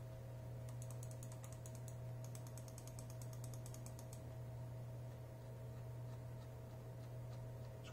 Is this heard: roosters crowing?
no